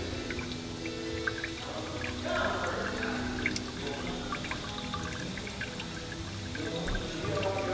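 Diesel fuel draining from a DD15 engine's Fleetguard fuel filter cartridge into a pan, a continuous close trickle and pour with occasional drips under steady background noise.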